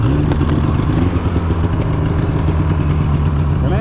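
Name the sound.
Polaris Indy 600 snowmobile engine revving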